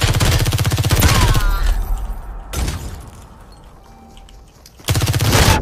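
Rapid Vector submachine gun bursts in Super People, loud and close, with one long burst opening, another mid-way and a third at the end, separated by quieter gaps.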